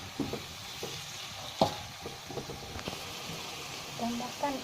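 Long beans being stirred as they fry in a pan, a soft sizzle under repeated scraping and clinking strokes of a utensil, with faint background voice.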